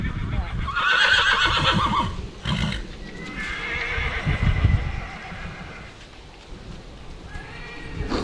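A horse whinnies loudly and close by, a long neigh followed by shorter snorts and calls, with hoof clip-clop and some background voices in a stable or yard.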